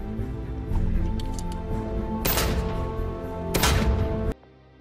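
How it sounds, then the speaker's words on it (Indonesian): Gunshots ring out during shooting training: several sharp, loud bursts with ringing tails, two prominent blasts standing out among smaller cracks, ending abruptly. "John kemudian melatihnya cara menembak yang baik dan benar agar tepat sasaran."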